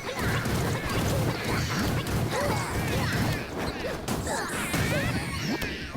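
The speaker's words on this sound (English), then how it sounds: "There we go, a little bit of a fireball explosion." Fireball explosion during combat in Black Desert Online, heard as a dense, crashing roar of impacts and bursts that fills the whole stretch, loud and continuous amid other battle noise.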